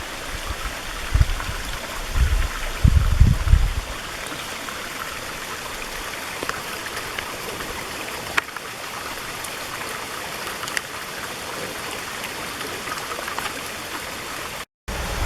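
A flowing stream at Black Springs in the woods near an abandoned coal mining village, a steady close rushing babble that continues throughout, with a few low thumps near the start.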